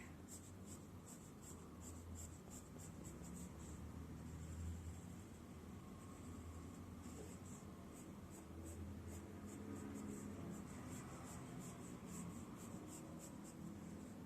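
A pen scratches across paper to draw a feather, giving quiet, rapid strokes in bursts with short pauses, faint and close against a low background hum.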